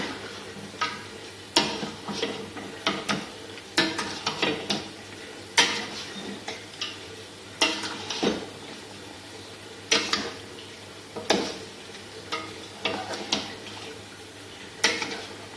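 Yogurt being stirred into a mutton biryani gravy in a pot: repeated scraping and clacking strokes of a spoon, fairly close and rhythmic, over a faint wet bubbling background, with no speech.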